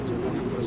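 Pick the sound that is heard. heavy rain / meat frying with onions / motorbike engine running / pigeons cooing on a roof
pigeons cooing on a roof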